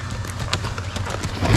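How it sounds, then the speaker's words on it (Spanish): Hooves of a seasoned seven-year-old horse beat in rapid clip-clop as it is ridden forward on a ranch at Sabanayana, a close, steady run of sharp impacts with a deeper thud near the end. "un caballo aguerrido, cabalgando"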